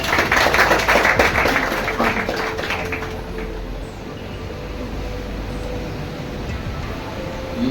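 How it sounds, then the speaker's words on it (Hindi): Clapping from a gathered audience honouring a student selected as a teacher at a Bhagalpur coaching institute, loud at first and thinning into quieter scattered claps and room noise. "तो आप ताली बजा दीजिए इसके लिए।"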